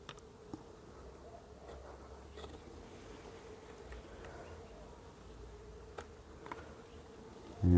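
Australian native bees hum around an open hive during brood work, a faint continuous buzz with occasional sharper ticks and a louder knock at the very end.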